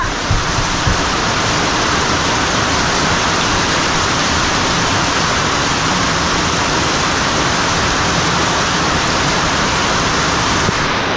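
A heavy afternoon downpour roars without pause, a dense, loud wash of rain hitting surfaces close by for the whole stretch, with no voices.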